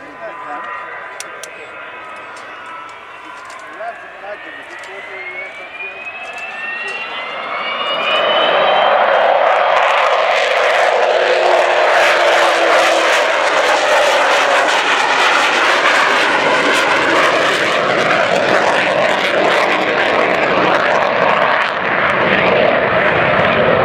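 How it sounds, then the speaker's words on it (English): The Avro Vulcan XH558 delta-wing bomber flies a display, its jet engines swelling from a distant whine into a loud, broadband roar that holds steady as it passes overhead. "this giant aircraft was as manoeuvrable as many of the fighters of its day"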